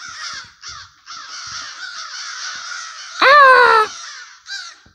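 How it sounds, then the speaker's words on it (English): A murder of crows in Taunton caws repeatedly, a run of rough harsh calls followed by one loud, close, drawn-out caw and a final shorter call, with no talk. "A murder of crows."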